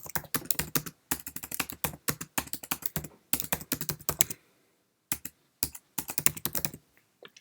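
Typing on a Mac keyboard while entering an email subject in Gmail, heard as close, crisp key clicks in quick bursts with short pauses between words, no voices.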